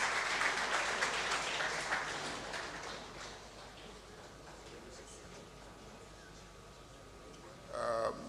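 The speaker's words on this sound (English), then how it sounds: "Give her a round of applause" Audience applause at an international trade seminar, fairly distant and thinning out over several seconds until only scattered claps remain, with a short burst of sound near the end.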